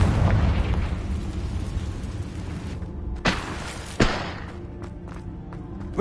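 A Confringo blasting spell erupts in Hogwarts Legacy combat with a rolling explosive rumble, then two sharp, heavy booms a second apart, each trailing off into a quieter fading tail.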